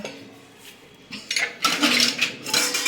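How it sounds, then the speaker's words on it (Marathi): A lid set down over a bowl of freshly kneaded chapati dough in a home kitchen gives a few sharp metallic clinks and clatters that grow louder and busier toward the end, with no talking. "आता याच्यावरती झाकण ठेवते जेणेकरून पीठ छान भिजेल"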